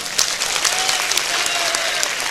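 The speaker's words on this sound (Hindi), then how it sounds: "एक बार ताली बजाओ इनके लिए" Applause from an audience at a Sundarkand recitation discourse, dense steady clapping filling the whole moment at close range, with no speech over it.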